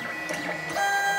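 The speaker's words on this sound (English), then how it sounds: "So let's just auto home the printer" A Lulzbot TAZ4 3D printer whirs as it auto-homes, its stepper motors humming and rising in pitch, loud and close with no voices.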